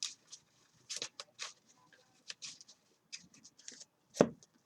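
Deck of trading cards shuffled by hand during a Yu-Gi-Oh game, giving soft, scattered riffles and taps in short bursts with quiet gaps and one sharper knock near the end, close and faint.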